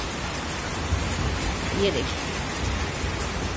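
Heavy rain falls on a forest area that had recently burned, making a dense, constant hiss throughout, and someone speaks briefly over it.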